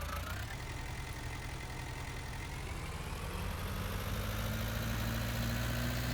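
Tractor engine running in Farming Simulator 19 while pulling a load at about 7 miles an hour, a steady, loud mechanical drone with a low hum that rises slightly in pitch toward the end.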